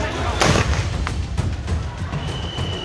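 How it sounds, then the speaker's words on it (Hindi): Tear gas shells fired by police at a violent protest crowd in Bihar sound as several dull booms and thuds, one louder burst early and fainter ones after, over a rumbling crowd noise. "हिंसक भीड़ को काबू करने के लिए एक के बाद एक पुलिस को लगातार आंसू गैस के गोले छोड़ने पड़े।"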